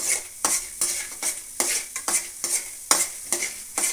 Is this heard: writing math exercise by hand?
no